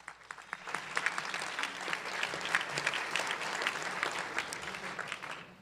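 Audience at a realtors' board installation banquet applauds guests, a dense, continuous crackle of many hands clapping throughout, moderately loud and steady without voices.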